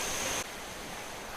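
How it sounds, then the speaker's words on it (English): Water gushes and splashes out of a pipe outdoors, a steady broadband rush heard close and loud with no voices, dropping slightly in level after a moment. "Let's have a look at this gushing water."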